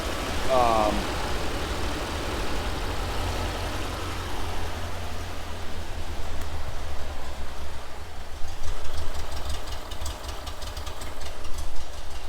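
A cold 1979 VW Super Beetle fuel-injected engine at high idle, idling steadily with a low, even rumble and a slightly raised pitch, some faint clicks and background noise over it.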